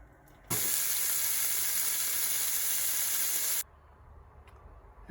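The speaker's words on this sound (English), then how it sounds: "now I am just going to chop it up and throw it into the fry pan" Chopped, blanched warrigal greens hit a hot fry pan, setting off a sudden loud hissing sizzle that holds steady for about three seconds and then cuts off into quiet background.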